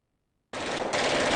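Video game gunfire bursts in abruptly after half a second of silence, a dense, loud, continuous rattle of automatic shots.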